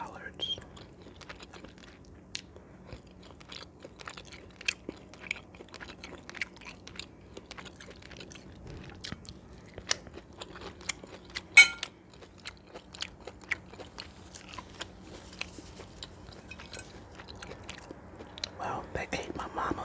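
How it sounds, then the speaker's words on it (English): Someone chews baked chicken and somewhat tough home-cooked collard greens close to the microphone, with soft, irregular crunching and mouth sounds spread over the whole stretch, faint and intimate, with occasional quiet whispering. "Let me taste these collards."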